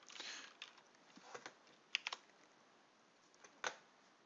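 Sparse keystrokes on a computer keyboard while a name is typed into a form: a few soft, scattered clicks with pauses between them, faint and close, with no talk.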